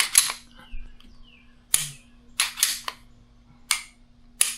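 Several sharp, crisp clicks of a Canik pistol's trigger resetting ring out close by, spaced irregularly with quiet gaps between them, a few coming in quick pairs.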